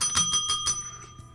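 A bicycle-style bell rung rapidly, about four quick bright rings in a row followed by two fainter dings, close and clear with no talking.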